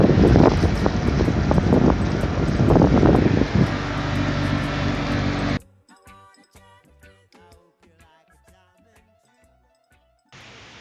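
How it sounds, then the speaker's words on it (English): Strong, roaring wind buffets the microphone on a boat deck in the Murray Canal for several seconds, then cuts out to a quiet, muffled background with faint tones. "As you can tell, it's windy."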